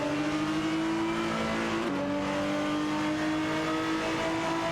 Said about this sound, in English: Rizaldi Adar and Frankie Burr 92 in the Maserati MC12 GT1 are fiercely contesting the 19th position